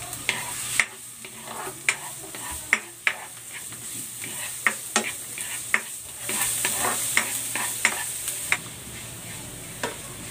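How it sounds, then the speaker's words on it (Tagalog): Garlic sautés in cooking oil in a pan with a soft, steady sizzle, broken by repeated sharp clicks and scrapes of a utensil stirring it at irregular intervals, with no talking. "Lalagay ako ng cooking oil. Igigisa ko muna itong bawang."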